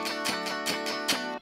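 An electric guitar plays funk with a fretted note held down, producing four quick, bright, percussive strummed hits in even rhythm before cutting off sharply.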